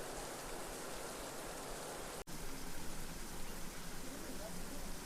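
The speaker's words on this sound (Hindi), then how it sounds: "यहाँ पर झरना इस तरह से चल रहा है मानो बरसात हो रही हो।" Steady broadband rush of a waterfall beside wooden log steps in a forest, sounding like continuous heavy rain, close and even throughout with a brief dropout partway.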